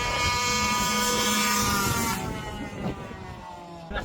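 A modded, cylinder-ported Avenger 85 small engine screams at high RPM, a loud steady high-pitched whine with dense harmonics that eases off slightly partway through.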